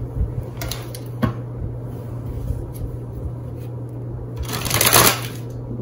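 Tarot cards are shuffled and split in short bursts, a few crisp flicks early on and a longer riffling flurry near the end, all over a low steady hum.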